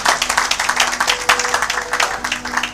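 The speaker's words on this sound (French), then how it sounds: "Acclamez pour la gloire de notre Dieu" Congregation applauding at a church service, a dense, steady crowd clapping that stays loud and continuous throughout, with faint tonal hum beneath.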